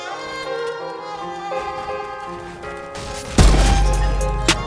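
A shotgun blast goes off once in a video game, a sudden loud boom near the end that sits over quieter background game music and noise.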